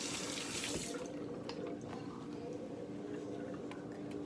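Tap water runs into a pot for cooking rice, pouring strongly for about a second and then trickling and splashing steadily close by.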